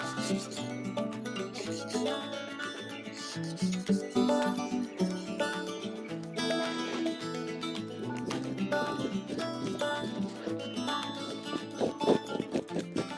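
A knife scrapes and rubs steadily across a salted sheepskin, trimming away small fatty bits from the middle of the hide, a close continuous rasping texture with irregular strokes.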